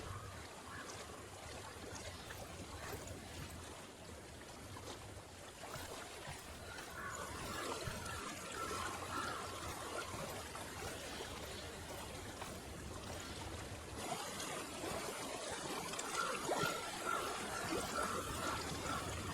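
Steady flowing water of a stream in Hellblade: Senua's Sacrifice VR, a continuous soft trickle and gurgle that swells a little louder midway and stays constant throughout, with no talking.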